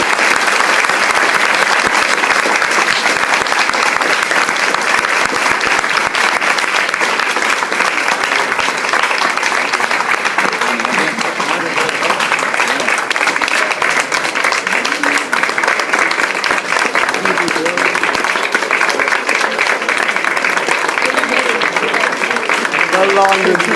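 Long, loud, unbroken applause from an audience after an end-of-year address, many hands clapping at an even, dense pace for over twenty seconds, with some voices faintly underneath.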